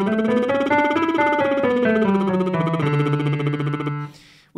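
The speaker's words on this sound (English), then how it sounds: "We're switching back to the lip trill again." A singer's lip trill glides smoothly up a scale to the ninth and back down to the tonic in one continuous buzzing tone, fading at the end with a brief breath.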